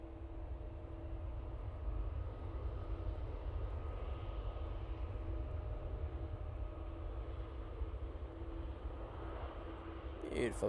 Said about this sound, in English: Beautiful EasyJet. So it's not often they use the 319 on the Amsterdam route, but nice to see.